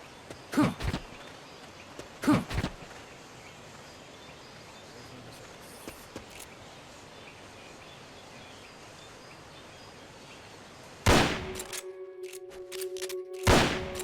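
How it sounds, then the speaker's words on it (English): Enemy gunfire in a video game: two sharp pairs of shots crack early over a quiet, hissing background, then a louder cluster of shots bursts out near the end. "Shots fired! The enemy's attacking!"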